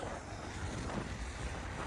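Strong wind roars steadily and loudly throughout, a broad blustery rush buffeting the microphone outdoors, with no voices present.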